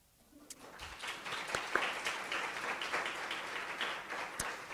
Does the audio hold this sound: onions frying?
no